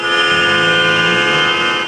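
Horns of oncoming cars honk in a sustained, loud, steady tone during a long convoy drive on rough roads, with traffic noise underneath.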